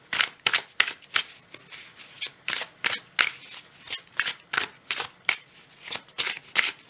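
Tarot cards being shuffled by hand, a rapid series of crisp riffling bursts in a steady rhythm, close and clear with no talking.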